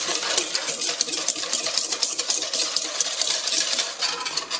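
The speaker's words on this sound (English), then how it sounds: "I'm just going to give that a quick little whisk" Vinegar dressing for coleslaw whisked quickly in a bowl, with a steady rapid scraping and clicking rhythm, close and loud, with no talking.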